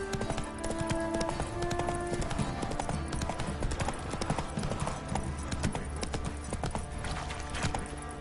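Hooves pound steadily as a horse gallops in the video game The Witcher 3: Wild Hunt, a fast continuous clip-clop that stays loud and close over a droning game background.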